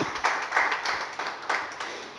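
Hands clapping in applause for God during a Spanish-language sermon: a steady run of sharp, fairly close claps repeating about every quarter second, with no talking.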